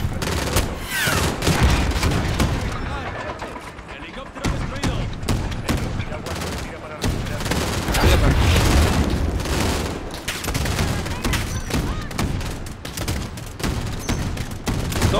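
Rapid bursts of gunfire in Call of Duty: Modern Warfare crackle almost continuously, with some heavier booms, mixed under loud, excited voices.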